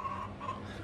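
Chickens clucking close by, a brief soft burst of throaty clucks with a faint tonal note, low in level and over in under a second with no talking.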